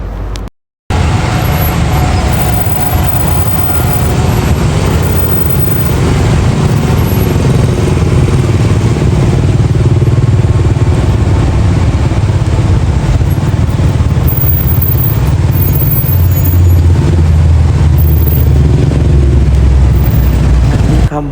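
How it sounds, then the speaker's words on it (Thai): Motorcycles and cars move through street traffic in Vientiane, a loud, steady roadway rumble with engine drone that continues close by for the whole stretch after a brief cut near the start. "รถอยู่ในตามท้องถนน"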